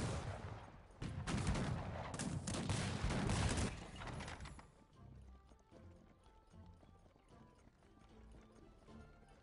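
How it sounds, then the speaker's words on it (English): Massed musket fire from soldiers in Cossacks 3 crackles in a dense volley and then thins into scattered distant shots, with hoofbeats and battlefield clatter mixed in. "My men are firing in all directions"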